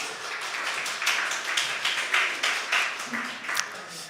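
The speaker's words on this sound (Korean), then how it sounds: "우리 설교의 도입을 위해서 애쓰신 두 분께 박수 한번 할까요?" Members of a church congregation applaud during an Easter service, giving sustained, moderately loud clapping from many hands in a roomy hall, with a faint voice now and then under the applause.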